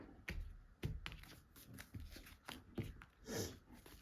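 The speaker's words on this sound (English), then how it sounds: "Let's shuffle these cards." Soft, quick rustles and clicks of tarot cards being shuffled, quiet and uneven, in several short bursts.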